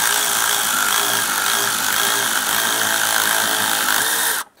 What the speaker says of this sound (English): Let's go ahead and tighten down that horizontal rearward bolt.